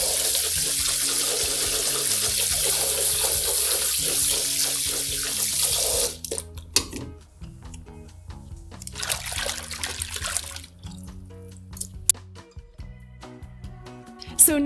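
Water streams from a faucet into a sink while conditioner is mixed in by hand for washing a wig. The steady hiss gives way to softer sloshing and swirling.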